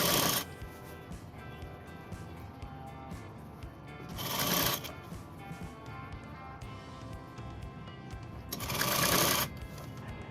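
A sewing machine stitching jacket fabric runs in three short, close whirring bursts separated by quiet pauses, with light handling noise in between.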